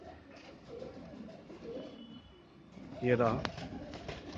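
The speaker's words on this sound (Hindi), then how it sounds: "ये देखिए बहुत ही बढ़िया कबूतर है" Domestic desi pigeons cooing close by, soft throaty coos under someone talking, with a brief burst of wing or cage clatter near the end.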